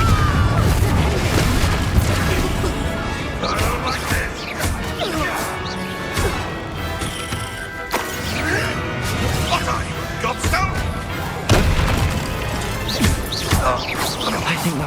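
Confringo fire curse blasts from Hogwarts Legacy go off in repeated loud crashing booms, layered among battle effects and a busy game soundscape throughout.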